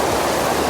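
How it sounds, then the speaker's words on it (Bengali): A main waterfall on a mountain route near Aritar roars as a dense, constant rush of water, loud and close, with no talk over it. "আমরা এখন ঝর্ণার সামনে দাঁড়িয়ে, দেখুন এই হচ্ছে মেন ঝর্ণাটা।"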